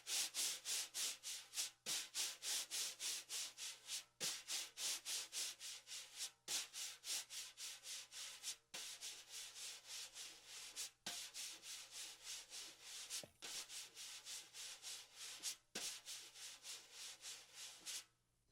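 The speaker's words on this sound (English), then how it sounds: "scraping the brush across the head to wear down some of this grit just a little bit" A wire brush scrapes across a snare drum head in long, steady strokes, repeating about every second or two with short pauses between them, close and alone with no talking.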